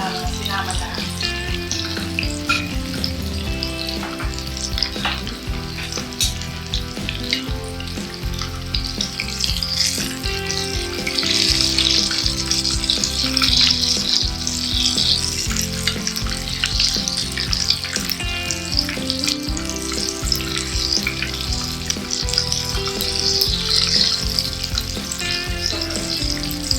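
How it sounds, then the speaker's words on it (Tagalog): Okoy fish fritters fry in hot oil with a constant, crackling sizzle that swells louder midway, close and unbroken with no talking. "Tatlo pa lang itong niluluto ko pero marami pa ako i-prito."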